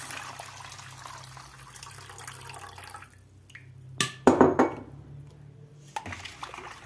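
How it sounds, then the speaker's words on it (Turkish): Two litres of water splash into a pot for pickle brine in a kitchen, a short burst of pouring after quiet metallic handling and a few clinks, close and clear. "2 litre suyumuzu içine ilave ediyoruz"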